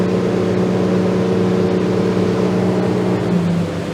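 Outboard motor on a Seaking Hunter 720 boat running steadily at 3600 RPM, a sustained droning hum with water rush, even and loud throughout.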